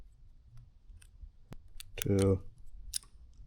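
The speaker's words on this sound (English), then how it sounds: "Brand new scissors. Don't cut." A new pair of scissors snips through heat wrap in a few sharp, close cuts and clicks, with a brief spoken voice in between.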